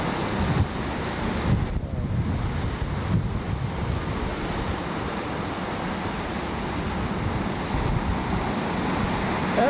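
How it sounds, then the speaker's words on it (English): Ocean waves surging and splashing in at a harbor, a steady broad wash of surf with heavy wind buffeting the microphone throughout, no speech. "Here comes a wave in. That's going to splash good."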